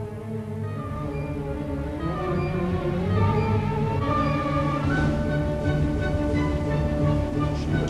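Flying Scotsman, a Gresley A3 steam locomotive, pulls out of a station, a steady loud rumble of layered tonal hums and shifting whines rising as it gets under way, with no voices.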